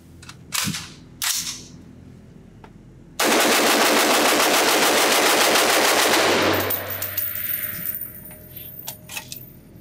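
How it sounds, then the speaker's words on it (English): A Knight's Armament SR-25 .308 pistol with a 14.5 inch barrel is fired at a range: two single shots first, then a long, very loud rapid string of closely spaced shots lasting about three seconds, followed by fading ringing and clatter. "just shoot the gun as fast as I possibly can"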